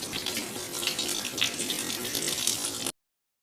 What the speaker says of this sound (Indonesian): dia bisa mendengar gemericik suara air saat perempuan itu mandi